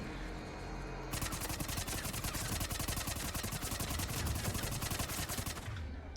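SMG fire in Mass Effect 3, a long sustained stream of rapid shots in a steady rhythm after a brief lull, fairly constant and moderately loud with no talk over it.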